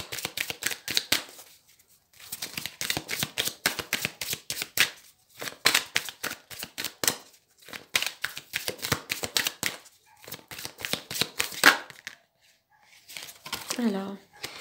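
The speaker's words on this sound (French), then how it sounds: "je vais retirer une ou deux cartes" Tarot-style cards are drawn and shuffled from a deck in bursts of papery riffling and flicking, close by, with pauses between the bursts, and someone speaks French in between.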